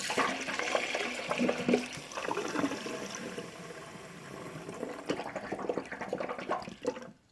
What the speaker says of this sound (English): And then the rest, fill it up with kombucha.